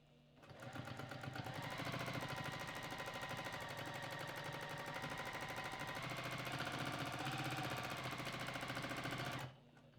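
A domestic sewing machine free-motion quilting runs in a fast, steady mechanical rattle for about nine seconds close by, starting and stopping abruptly.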